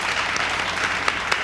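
Audience applause at an open mic poetry event in Lucknow: a dense, steady burst of many hands clapping together, filling the room at even loudness with no voices over it.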